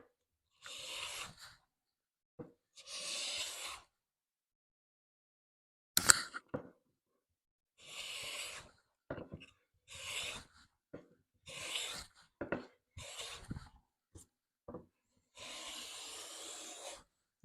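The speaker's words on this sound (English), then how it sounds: "when you're planing with such a fine cut, not to let the shavings get under the plane" An HNT Gordon A55 smoothing plane takes fine cuts along a cherry wood board, producing a series of short, crisp swishing strokes separated by silences, close and clear, with small knocks between passes.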